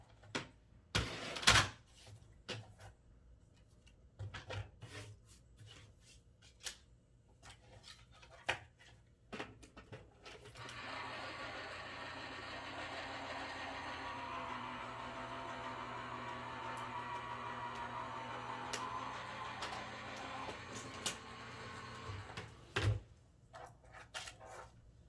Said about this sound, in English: I'm going to take this back to my die cut machine